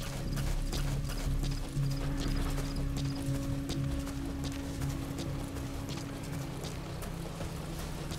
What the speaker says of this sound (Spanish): me equivoqué botón y hice correr al caballo